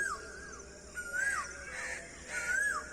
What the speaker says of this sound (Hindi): कोयल की आवाज़ देखो कितनी अच्छी आ रही